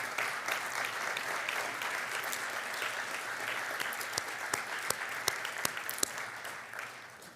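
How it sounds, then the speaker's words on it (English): A steady round of applause from a seated crowd for university foundation board members at an award ceremony, continuous dense clapping with a few sharper close claps near the end, no talking over it. "Give them a round of applause"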